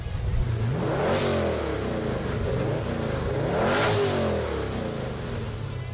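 A Pontiac GTO muscle car with a 393 stroker engine making 506 horsepower at the rear wheels revs up twice nearby, each throttle blip rising and falling in a loud, rumbling sweep over a steady idle.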